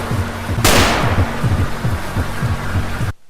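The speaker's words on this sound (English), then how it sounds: "Chase after Slenderman with a gun and shoot him." A single sharp gunshot fires in a Slenderman horror video game, a loud broadband crack that decays over a steady low rhythmic thumping like a heartbeat, then cuts off.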